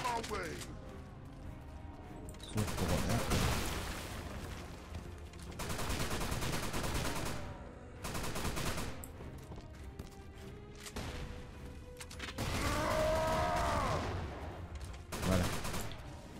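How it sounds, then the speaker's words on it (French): Gunfire in The Haunted: Hell's Reach as a player shoots at stones, heard as repeated bursts of rapid shots in separate volleys with brief gaps, loud and close, mixed with other game effects. "je tire dans les pierres"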